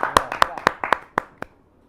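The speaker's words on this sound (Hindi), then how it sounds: "जोरदार ताली के साथ" Audience clapping at a Hindi poetry gathering, a handful of sharp, separate claps in quick succession from a small crowd, fading out after under two seconds.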